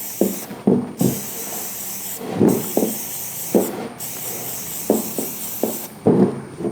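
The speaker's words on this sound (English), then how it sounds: "I am using a solvent cleaner to clean the surface." Solvent cleaner sprayed onto a surface for penetrant testing: a steady hissing aerosol spray, near and continuous, broken by short gaps and soft knocks from handling the can.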